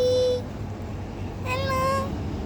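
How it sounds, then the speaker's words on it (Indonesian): A cat at a museum gives two short, clear meows, one at the start and another a second later, close to the listener over low room noise. "Ini ada kucing."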